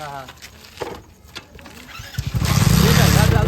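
After some brief talk, a motorcycle engine cranks and catches, then settles into a loud, close, steady rumble.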